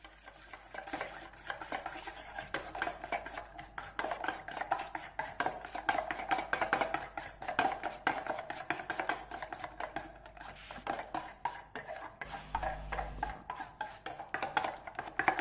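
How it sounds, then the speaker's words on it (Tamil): Rapid, steady clinking of a spoon whisking eggs against a bowl for a Tamil-style spoon omelette, a quick rhythmic tapping heard close up. "ஆட் பண்ணி நல்லா பீட் பண்ணிக்கலாம்"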